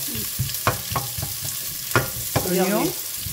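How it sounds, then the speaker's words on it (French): Onions sautéing in a pan for a Provençal octopus sauce, with a steady close sizzle broken by sharp utensil clacks and stirring scrapes, and a brief sliding tonal squeak near the end. "Oignons qu'on fait revenir tout ça"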